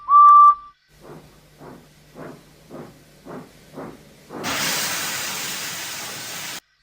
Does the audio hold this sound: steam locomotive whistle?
yes